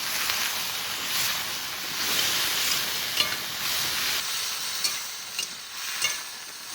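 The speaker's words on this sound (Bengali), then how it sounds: "এবার এই ডাটাগুলো একটু ভেজে নেব।" Vegetable stalks frying in a pan with slit green chili, salt and turmeric, a steady close sizzle and hiss with stirring scrapes and a few sharper clicks, no talk.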